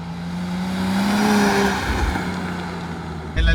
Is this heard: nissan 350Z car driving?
yes